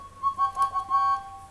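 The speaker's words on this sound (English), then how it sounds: "this is a two-part whistle." A two-part toy train whistle of the kind used for Thomas and Friends engines gives a few short, bright tones and then one longer sustained blast, close and clear with no talking.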